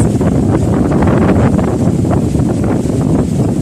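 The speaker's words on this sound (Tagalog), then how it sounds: "Malakas kasi yung hangin dito ngayon" Strong wind buffets the microphone in a constant loud roar at Bolabog Beach, Boracay, with faint surf underneath.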